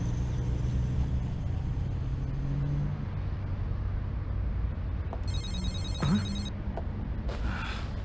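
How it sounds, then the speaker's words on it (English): A phone rings briefly near the end of a scene with steady low traffic-like rumble throughout, the electronic ringtone bursts standing out clearly above the background; no talking. "The second I'm out the door, my phone starts ringing."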